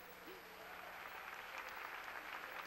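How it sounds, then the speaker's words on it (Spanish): An audience at a merengue concert celebration applauds in a faint, distant, steady wash of clapping over a constant background hum. "¡Aplauso!"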